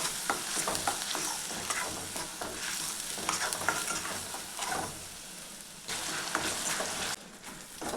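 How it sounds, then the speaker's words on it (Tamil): Onions fry in oil together with raw mutton, a close, steady sizzle broken by frequent stirring scrapes and clicks against the pan, continuous throughout with no talking. "அந்த எண்ணெயிலேயே வெங்காயம் நல்லா வதங்கணுங்க."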